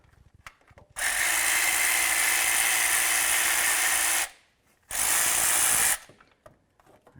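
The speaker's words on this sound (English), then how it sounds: "The next thing we need to do is remove our two mounting bolts." A power ratchet removing the thermostat housing mounting bolts on a 2003-10 Dodge Ram, two loud sustained whirring runs of about three seconds and one second, close, with quiet handling noises around them.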